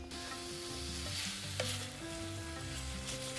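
Thinly sliced onion frying in coconut oil for a Kerala lamb curry, a steady close sizzle with occasional stirring scrapes and clinks, no voices.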